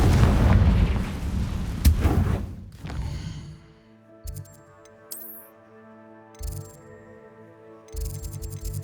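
Confringo blasting spell exploding in the Hogwarts Legacy video game against a giant spider, a loud close booming blast that fades into quiet game music with a few softer impacts.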